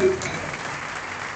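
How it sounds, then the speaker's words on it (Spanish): Crowd applause at a kayak surf world championship closing ceremony in Argentina, a dense, steady wash of clapping that holds for the whole moment without letting up. "Fuerte el aplauso, por favor."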